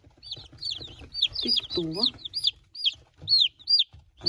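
A young rooster clucks and squawks in short, irregular bursts close to the microphone, among laying hens, while a person speaks briefly.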